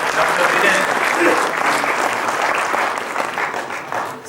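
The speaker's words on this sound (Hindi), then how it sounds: "उस किनारे उन दोनों के लिए ताली" A conference audience at Bapcon claps loudly and continuously for two doctors on stage, a dense sustained burst of applause lasting a few seconds before tapering slightly, with a voice faintly under it.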